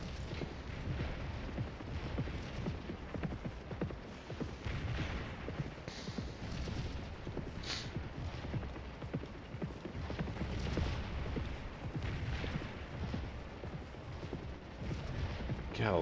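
Massed artillery fire in the Napoleonic-era battle game Scourge of War, a dense, continuous rumble of overlapping booms and crackling shots that rolls steadily for the whole stretch at a moderate, fairly distant level.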